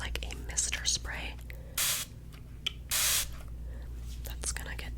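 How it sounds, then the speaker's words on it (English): Two short bursts of fine mist from a pump spray bottle of tanning mist, each lasting about a third of a second, set against quiet whispering and low background hum. "It's just like a mister spray."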